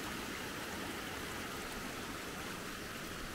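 Creek water runs steadily after rain on a farm in Andalusia, Spain, a dense continuous rushing wash with no pauses, close to the listener and with no voices.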